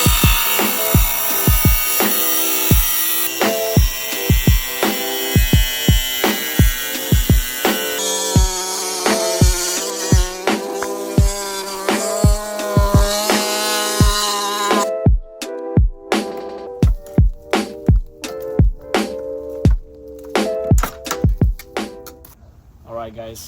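A jigsaw cuts a Jeep part with a loud, rapid buzzing rasp that rises and falls in pitch as the blade loads. Music plays throughout, and the cutting becomes clearer and choppier near the end.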